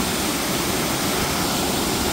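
A powerful waterfall, one of several cascades along the stream, sends up a loud, steady, unbroken roar that fills the whole clip with no voices.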